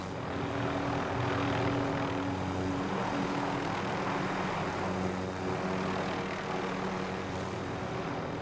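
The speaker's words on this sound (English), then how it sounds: "yo, helicopter. Pick us up." A helicopter in the Call of Duty Warzone video game gives a steady rotor and engine drone, fairly faint and continuous throughout, with no talk.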